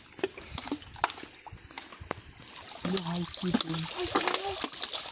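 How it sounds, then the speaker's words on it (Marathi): Water gurgles and splashes as a bottle is filled outdoors by a fishing spot, a close irregular trickle with occasional knocks, while voices talk over the second half. "हे बघा आता पाणी अशा प्रकारे पाणी भरतो आहे"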